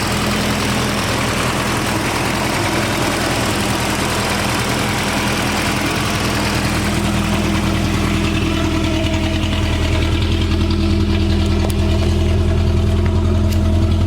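A manual-swapped Volvo 240 engine idles steadily for the whole stretch, a loud, close, even rumble with a constant low hum and no voices.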